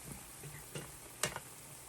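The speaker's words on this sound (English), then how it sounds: "So now I'm gonna cover it so it doesn't splatter, and I'm going to let it fry." Quiet, steady frying of plantains in a covered pan, a soft hiss with a few small pops and crackles, one sharper snap near the end.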